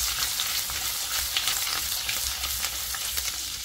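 Fish pieces from a Humber catch fry in a pan, producing a loud, continuous crackling sizzle with occasional stirring scrapes, close up and without speech.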